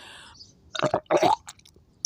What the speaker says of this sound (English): That was another burp.